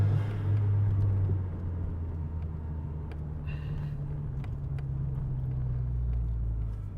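A car engine idles and runs at low revs with a steady, deep rumble throughout, close and continuous, with no voices.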